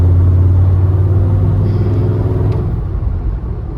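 A V8 engine vehicle rumbles loud and close with a deep, steady low throb that eases off slightly toward the end, with no talking.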